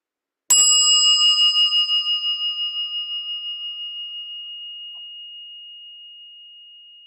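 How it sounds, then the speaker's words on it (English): A meditation bell is struck once and rings with a clear, pure tone that decays slowly over several seconds into near silence, with no voices. "allowing the bell to create a natural pause"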